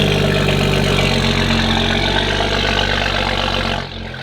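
A BMW M550 with an N55 engine idles steadily after a cold start, loud and near with a constant rumble, then drops abruptly quieter near the end.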